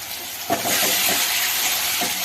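Tomato paste with chili, ginger and garlic paste and spices hits a hot frying pan, setting off a sudden loud sizzle about half a second in that continues as a steady, close hiss.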